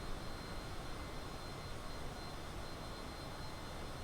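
Airplane engine noise in Microsoft Flight Simulator, a steady broadband roar that holds at an even level throughout while the aircraft builds speed, with no talk.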